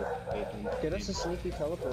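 Dogs barking and yipping in the background of a gaming session of Overwatch, the repeated short yaps sitting under steady conversation from players throughout.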